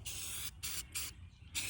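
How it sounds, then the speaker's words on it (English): Spray paint hissing from an aerosol can onto wooden craft pieces, coming in four separate bursts of about half a second each, with brief quiet gaps between them, close and steady. "spray painting all this stuff."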